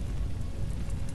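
Steady, dense rain in the video game Choo Choo Charles, a broad hissing wash with a low rumble, continuous and fairly loud with no voices.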